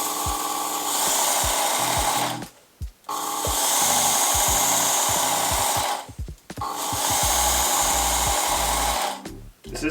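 Work Sharp Ken Onion belt sharpener grinding a 20CV steel knife blade, a steady loud abrasive whir in three long passes separated by brief pauses, close up.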